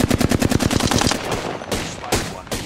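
Rapid video-game gunfire opens with a fast burst of machine-gun shots for about a second, followed by a few louder single shots spaced apart, all close and sharp with no talking.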